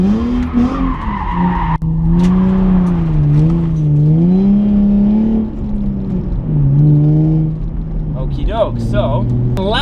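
Nissan car with a VQ engine and 6-speed, revving hard through a U-turn, the engine note rising and falling in wavering sweeps with tire squeal mixed in, loud and close, with a few sharp clicks near the end.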